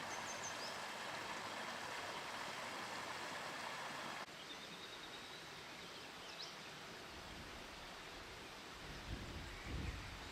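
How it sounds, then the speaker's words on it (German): Water rushes down a stream in a ravine on Tenerife's Anaga coast, a steady, soft broadband roar that holds throughout with faint bird chirps above it. "Nur das Rauschen des Wassers und Vogelgezwitscher."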